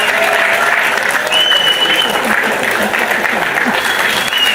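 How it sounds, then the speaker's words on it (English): An audience applauds loudly as Stevie Wonder is sworn in as a Ghanaian citizen, making a thick, sustained roar of clapping with crowd voices and a few cheers mixed in throughout. "A resounding round of applause"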